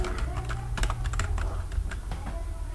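Keys clatter steadily on a computer keyboard while a Python program is written, a close, continuous run of light clicks with brief louder taps and no voices.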